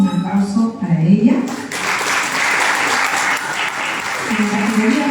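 An audience applauds an award honoree at a municipal ceremony, with broad, sustained clapping filling the room. A voice speaks before the clapping swells and again as it carries on.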